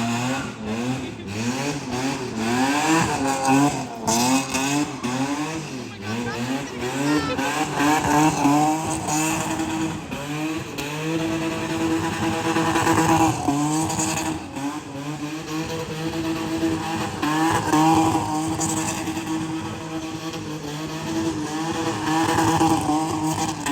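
A drift car spins a donut, its engine revving hard and steadily the whole time, layered with tire squeal and loud, continuous motor roar close by.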